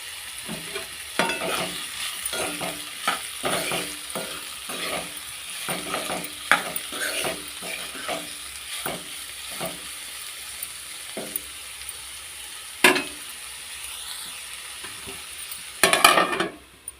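Tomato pieces frying in a pan with salt, sizzling steadily while a spoon scrapes and stirs in repeated strokes, with a few sharper clinks against the pan.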